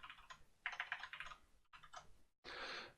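Fast bursts of typing on a computer keyboard during a C++ programming session, with quick clustered key clicks separated by brief pauses and a denser final run, fairly faint and with no talking.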